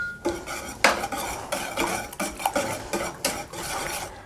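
A spoon stirring dry milk powder into kheer in a metal pot, scraping and clinking in a run of about a dozen uneven strokes, close and fairly loud, with no voices.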